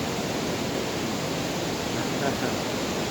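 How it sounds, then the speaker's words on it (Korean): Water surges powerfully over the Jamsil weir in Seoul, a steady, dense roar that holds at an even level throughout with no break. "잠실 수중부에 물소리가 힘차게 흐르고 있습니다"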